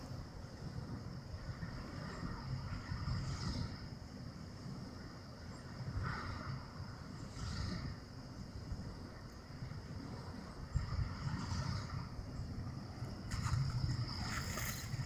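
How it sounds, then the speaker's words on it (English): Small wind generator running outdoors, a faint steady whooshing drone with periodic swells, mixed with insect buzz and distant road noise, quiet and without speech. "the noise of the insects and the road out there seems louder than what I'm hearing from this wind generator"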